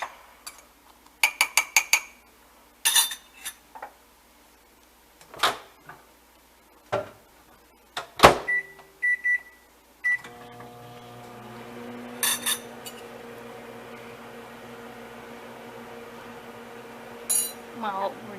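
A few clinks and clicks, then a microwave oven starts and runs with a steady, even hum while heating a bowl of stirred apples, close by and alone.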